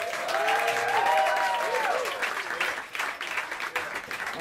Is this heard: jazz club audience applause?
yes